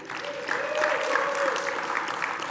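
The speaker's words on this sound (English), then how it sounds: "I'd like to get a big round of applause for our elected volunteers" Audience applause at a conference meeting for the elected volunteers, a fairly quiet spread of clapping that rises slightly and carries on evenly for a couple of seconds, with a faint tonal hum underneath.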